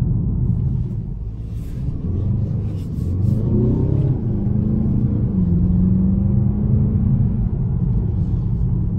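A 2019 Mercedes CLA 220d AMG Line diesel engine running, a low steady rumble close by that rises in strength partway through as it revs and settles into a smooth hum, with no talking.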